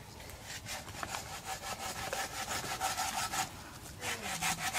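A 30 cm hand saw cuts through a coconut tree trunk in steady back-and-forth strokes, a close, rhythmic rasping that continues throughout with no talking.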